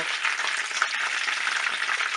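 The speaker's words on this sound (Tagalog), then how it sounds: "Bali-balik na rin lang natin habang nagpiprito para even yung pagbabrown niya." Steady, dense sizzling of fish balls frying in hot oil over low heat, loud and close, with a constant crackle and no talking.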